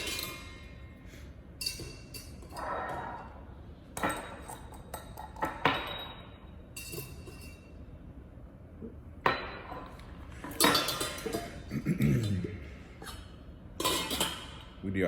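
Ice cubes clink and rattle in whiskey glasses as Uncle Nearest is poured on the rocks, scattered bright clinks and knocks at close range, with people talking between the sounds.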